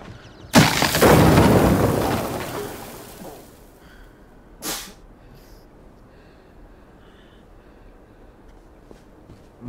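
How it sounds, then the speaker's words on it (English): A single loud, sudden sneeze bursts out close up indoors near a hay bale, a sharp explosive blast that fades over a second or two, followed by a quieter breathy snort and near silence. "Oh my god, I had to sneeze."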